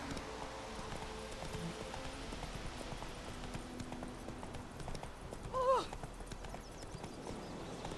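Roach, the horse in The Witcher 3, trots with a steady, moderately close clip-clop of hooves on the ground, and a brief neigh rises near the end over low game ambience.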